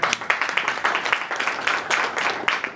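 Applause from a conference audience at a panel session on AI policy, moderate and steady with dense overlapping claps, heard from within the room.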